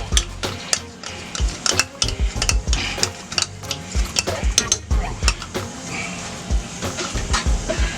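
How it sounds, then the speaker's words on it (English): A spoon stirs a sticky candied yam mixture with ginger and syrup in a pot, scraping and clinking against the sides in quick, irregular strokes that are close and fairly loud. "we're going to incorporate these and get them all mixed up in here"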